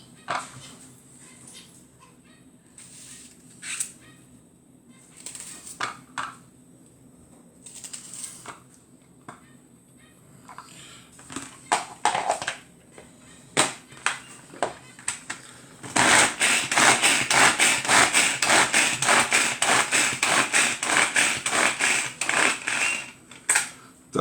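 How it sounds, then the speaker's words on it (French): Food being chopped with a knife, a run of sharp scattered cuts that breaks into a fast, dense, loud burst of rapid chopping toward the end, with no talking. "Alors, on va venir hacher."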